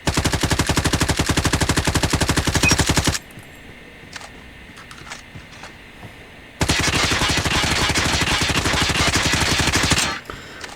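Rapid automatic fire from the CR-56 AMAX rifle in a shooter video game, two loud sustained bursts of closely spaced shots separated by a quieter stretch with faint clicks.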